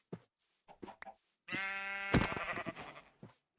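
A sheep in a video game lets out a long, wavering bleat, loud and close, preceded by a few soft clicks and rustles.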